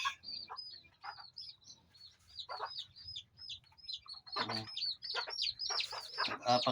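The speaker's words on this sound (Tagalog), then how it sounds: "ito na yung mga manok natin guys" A group of chickens clucks and chirps close by in repeated short calls that grow busier, with louder squawks toward the end.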